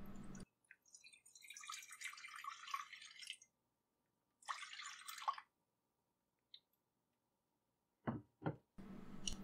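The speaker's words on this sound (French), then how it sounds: "Dans un grand bol, je vais commencer par mesurer 250 g d'eau." Water runs from a tap into a large bowl in two short pours, close and soft, followed by a few faint drips and light clinks against a quiet background.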